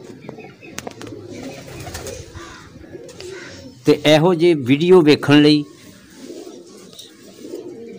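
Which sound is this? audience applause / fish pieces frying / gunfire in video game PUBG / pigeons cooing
pigeons cooing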